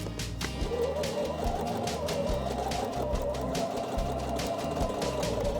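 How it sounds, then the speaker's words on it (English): A sewing machine stitches a quilt block seam, running in a steady rapid whir with soft rhythmic needle clatter, close and fairly quiet, with no voices. "I'm going to actually start sewing way out beyond my dotted line."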